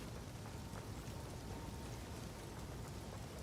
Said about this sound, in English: Rain of Arrows launches a volley that continues to fall for some time.